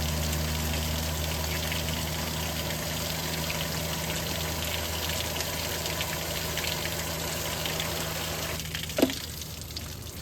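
Water rinses coil cleaner and debris out of a GE Superthrust air conditioner, a steady loud stream over a low pump hum, with a brief knock near the end.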